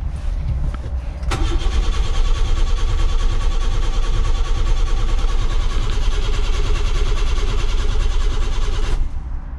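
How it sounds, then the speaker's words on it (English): A Nissan Micra K10 engine cranks steadily for about eight seconds without catching, a loud, continuous churning starter rhythm that stops abruptly, preceded by a faint click and brief quiet. "The Nissan Micra doesn't start."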